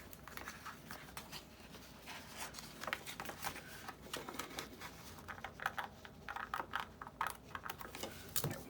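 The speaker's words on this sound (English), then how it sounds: "I could always come through with a little bit of a scissor snip and snip it" Scissors snip through tape on a handmade scrapbook signature page, giving a quiet run of small, crisp clicks and cuts in uneven rhythm with no talking.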